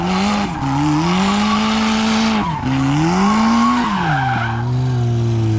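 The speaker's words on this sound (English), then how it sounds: "we're gonna be here doing some donuts" A street-drifted Nissan S13 doing donuts, its engine holding a loud, steady wail with pitch swings as the tires skid and squeal continuously for several seconds, close and alone.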